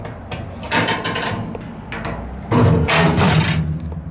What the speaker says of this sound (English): So they got this durable latching mechanism here.